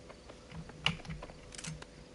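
A computer keyboard clatters in short bursts of close, sharp key taps during a gaming session, with an irregular rhythm and a louder clack near the middle.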